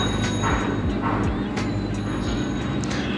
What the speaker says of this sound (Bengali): তো এখানে তো ট্রেনও চলতেছে